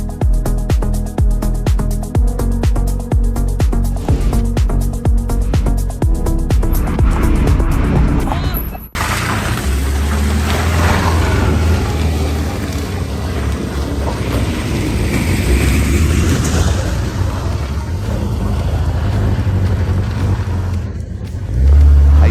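An expensive car drives into an off-road mud pit, its engine roaring steadily and loud, then revving hard with wheelspin and splashing as it struggles, covers a short distance and stops.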